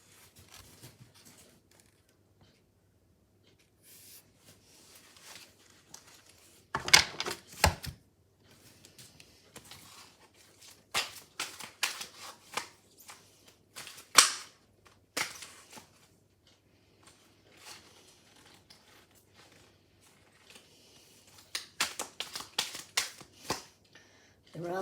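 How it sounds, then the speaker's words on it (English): Large, thick packs of cards being shuffled during a card reading, in irregular bursts of riffling and snapping separated by quiet gaps, fairly close and soft overall. "They're rather difficult to shuffle because there's so many in each pack."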